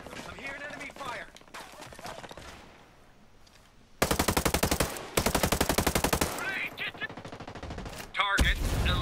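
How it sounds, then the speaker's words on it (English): Enemy gunfire in the tactical shooter game Ghost Recon Breakpoint: loud bursts of rapid automatic fire dominate the second half, with dense repeated shots, following quieter stretches with a voice talking in the background. "I'm hearing enemy fire."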